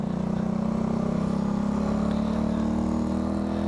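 A small motorcycle engine with a worn stock exhaust idles steadily nearby, a low, even buzzing drone with a slight rhythmic pulse throughout, no voices.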